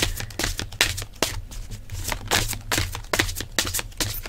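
Tarot cards being shuffled for a December reading, giving a run of quick papery riffles and soft slaps that repeat in short bursts, fairly close, with a low steady hum underneath and no talking.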